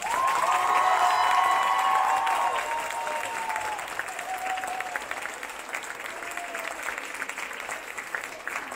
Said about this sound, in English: one more round of applause for all the seniors